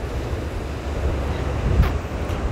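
Ocean surf rolls onto the shore below the mountains on São Antão, Cape Verde, a loud steady wash of waves mixed with gusting wind buffeting the microphone, with a brief thump partway through.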